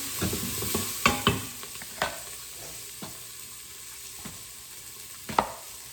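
A spoon stirring Thai chicken coconut soup in a pot with chunked onion, a soft steady sizzle underneath scattered knocks and scrapes against the pot, close by, with no talking.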